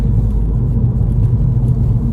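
A 270 bhp MK5 Golf GTI with a stage 2 tune being driven, its engine a steady, loud low rumble from inside the cabin, with no voices.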